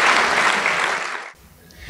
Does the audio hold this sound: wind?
no